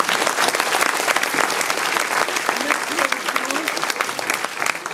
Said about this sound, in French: je pense, l'applaudir bien fort.